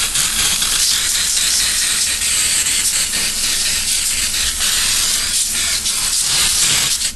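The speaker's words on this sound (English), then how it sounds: "Give this a generous spray." Cooking spray hisses loudly and continuously from a can onto raw tuna patties laid out for baking, a close, dense spray that keeps going through the whole span without pause.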